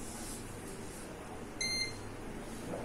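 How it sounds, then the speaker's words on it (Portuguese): A single short electronic startup beep from a desktop computer sounds once against a steady background hum. "Deu bip."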